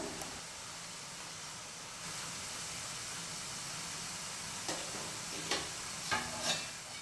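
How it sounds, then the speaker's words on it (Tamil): Omapodi (fried gram-flour noodles) frying in hot oil gives a steady, close sizzling hiss, with a few soft clinks of utensils near the end. "ரொம்ப நேரம் எண்ணெயில் ஓமப்பொடி விட்டுறாதீங்க"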